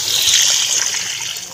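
Water being poured into a cooking pot for rice in a home kitchen, a steady bright splashing trickle heard up close and alone for a moment.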